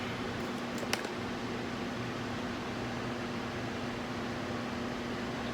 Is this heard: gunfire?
no